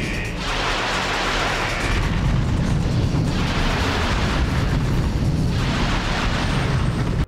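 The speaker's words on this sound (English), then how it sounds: "the Rhino was a massive rocket launcher that fired 9 round bursts and could fire 50 times" The Rhino rocket launcher in Ratchet & Clank fires its nine-round bursts as loud, booming rushes of rocket blasts, arriving in repeated waves that roll together with almost no talk.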